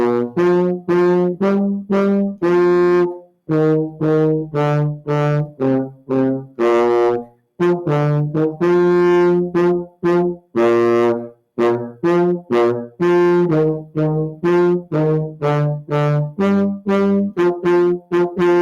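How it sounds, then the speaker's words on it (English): A baritone horn plays a melodic line of separate, sustained notes with brief breaths between phrases, clear and close, with no other sounds. "Okay, and that's our baritone."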